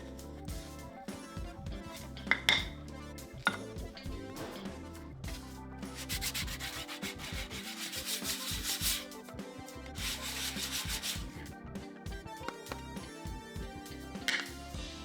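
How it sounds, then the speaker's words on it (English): Sandpaper lightly rubs back and forth on a wooden coaster in steady strokes, close and fairly quiet, with occasional small knocks. "just a light sanding now, and we will have a completed coaster"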